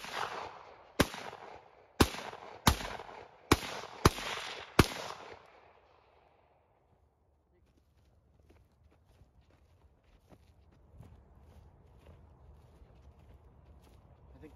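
Seven sharp, loud gunshots from a .300 Blackout rifle fired at pumpkins ring out close by in an uneven rhythm over about five seconds, then give way to a long stretch of faint outdoor quiet.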